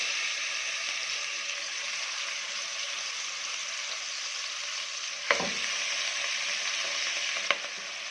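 Roughly a kilo of lamb sizzles steadily in hot oil in a pot on a gas stove, a continuous close frying hiss with two sharp clinks or spatters near the end.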